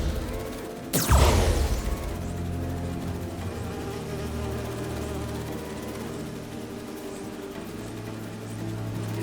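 Bees from the video game Marvel's Spider-Man 2 drone in a steady, close insect buzz that carries through the whole stretch after a sharp burst near the start, with a low mechanical hum running underneath.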